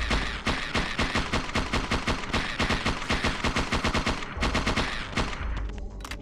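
Rapid automatic gunfire from the video game Parasite Eve 2, a dense steady stream of loud shots repeating for several seconds before a short break and a final scattered burst, with no talking.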